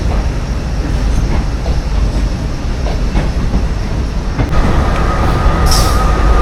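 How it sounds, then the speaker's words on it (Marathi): Diesel locomotive train at Attari station on a foggy morning, a steady loud rolling rumble with faint clatter and a short high squeal near the end, no talk. "डिझेल लोकोमोटिव्ह आहे."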